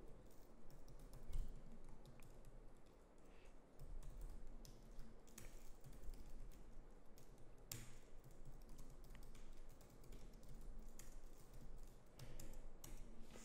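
C++ code is typed on a computer keyboard in a stretch of quiet, irregular key clicks. They are faint and fairly close, with no voice over them.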